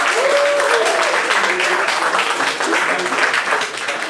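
A roast battle crowd applauds both contestants with full, continuous clapping while a voice briefly carries over the start.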